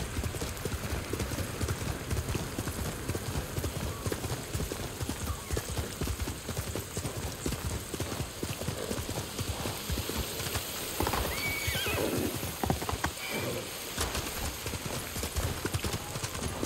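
Steady clip-clop of hooves at a trot runs throughout in Ghost of Tsushima, with a horse neighing loudly near the end over a soft ambient background.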